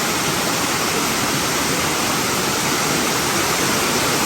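Crabtree Falls on the Blue Ridge Parkway in North Carolina roars as a steady, loud, unbroken rush of falling water, filling the whole span with dense hiss and no voices.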